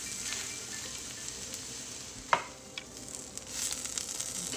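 A patty melt sandwich toasts slowly in a pan over low heat, giving a steady, even sizzle throughout with a single brief clack partway through.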